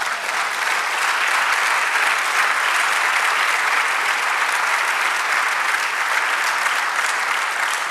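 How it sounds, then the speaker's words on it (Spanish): A church congregation claps together in a dense, even roar of applause that holds at a steady, loud level throughout without a break. "Denle un aplauso al Señor."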